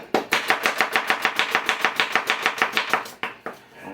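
Rapid, steady knife chopping through onion on a cutting board, about twenty crisp even strikes in quick rhythm, close and loud, slowing to a few separate chops at the end, with no talking.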